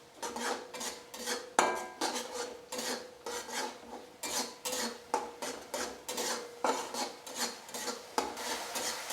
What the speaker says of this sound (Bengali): এটা আবারও আমি ভালোভাবে কষিয়ে নেব যতক্ষণ না মশলা থেকে তেল ছেড়ে আসছে।